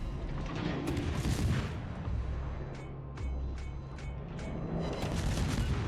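Naval gunfire from a ZF-6 destroyer in a warship video game, a steady stream of booming shots over a dense rumbling background of battle noise, with several sharp reports standing out.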